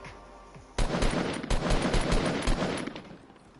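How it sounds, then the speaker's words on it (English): Video game gunfire erupts in sustained loud bursts, rapid overlapping shots and automatic fire that start abruptly and keep going with a few heavier blasts, no voices. "I see here's some gunfire over there."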